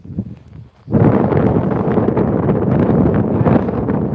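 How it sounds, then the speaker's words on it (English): After a brief quiet moment, strong wind slams into the microphone and keeps roaring in loud, buffeting gusts for the rest of the clip. "The wind's getting worse."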